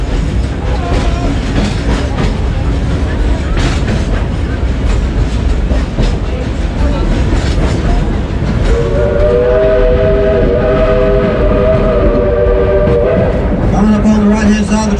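A train at Dollywood rumbles steadily along the rails with rhythmic clacking, a horn sounding partway through, while people talk over the constant noise.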